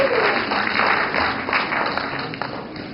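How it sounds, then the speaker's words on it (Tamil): A Tamil pattimandram debate audience in Oklahoma claps to welcome the final speaker, an even wash of hands filling the hall, with a steady electronic hum from the sound system beneath it. "அவரை உற்சாகப்படுத்தி கைதட்டுமாறு கேட்கிறார்"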